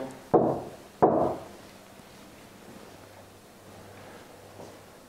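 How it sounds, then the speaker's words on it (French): Two sharp knocks, about a second apart, ring out against quiet background hiss. "N'hésitez pas à taper 2 coups comme ceci"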